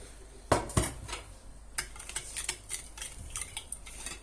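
A spoon stirs salt and yeast into water in a cup or bowl for lokma dough, giving quick rhythmic clinks and scrapes against the sides, close and fairly clear, with no talking.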